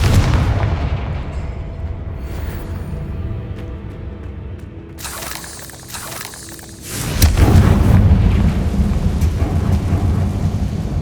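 Confringo fire spell blasting in the Hogwarts Legacy video game on PS5, a loud sustained rumbling roar with a sharp crackling burst midway and a heavy booming swell after, dense and continuous, no talking.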